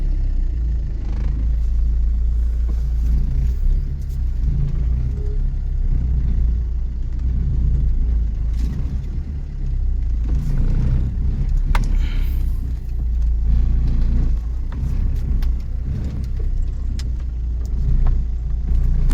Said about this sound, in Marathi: बघा किती दमदमशी गाडी काढतोय आपण